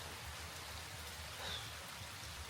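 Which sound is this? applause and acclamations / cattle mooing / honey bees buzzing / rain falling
rain falling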